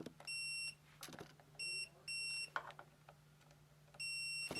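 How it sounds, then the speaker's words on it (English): A multimeter in continuity mode beeps as its probes tap a car fuse, giving several short, steady electronic tones separated by faint clicks and handling noise. "And if you get a beeping like that"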